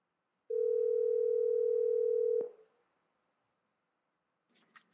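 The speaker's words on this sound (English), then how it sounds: "I'm going to tap on the phone app" An Apple Watch with cellular places a phone call, sounding one steady electronic ringing tone for about two seconds before it cuts off, followed by a brief faint voice near the end.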